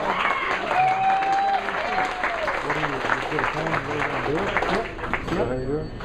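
Audience applause at an art-and-song event in Latrobe, Pennsylvania, a modest patter of clapping heard under a speaker's continuing talk and faint music tones.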